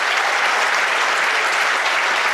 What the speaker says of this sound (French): On peut l'applaudir quand même.